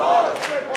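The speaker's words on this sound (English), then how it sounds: "Crowd digging into the Warhorse chant." A pro-wrestling crowd chants "Warhorse" in loud, rhythmic unison that fills the arena, with brief swells of cheering.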